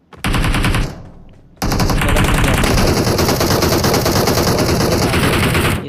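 Sustained automatic gunfire in the mobile battle royale game BGMI, loud and close, a rapid burst, a brief pause, then a long unbroken stream of shots.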